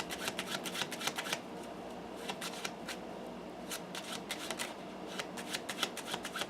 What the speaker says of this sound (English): the old-fashioned overhand shuffle, and we're going to mix those aces up into the deck of cards